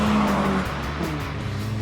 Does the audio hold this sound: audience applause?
no